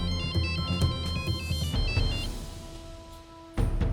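A phone ringtone chirps in a repeating electronic pattern while a call is placed to a police station, fairly loud and close, with a brief pause before the ring resumes.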